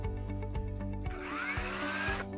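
A Milwaukee M21-RH2603PLUS cordless concrete hammer drill, new and untested, starts up softly: a low hum, then a rising whine as the motor spins up, heard close and steady.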